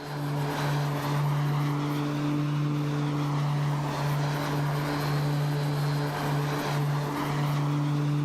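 A Black Square Turbine Duke turboprop cruising in Microsoft Flight Simulator 2024, a steady loud cockpit drone with a strong low propeller hum and engine whine, constant throughout with no speech.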